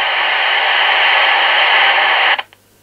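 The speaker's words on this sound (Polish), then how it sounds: "radio szumi, no bo radio będzie szumiało" A powered radio receiver hisses with steady loud static, a continuous broadband noise that cuts off abruptly near the end, leaving near silence.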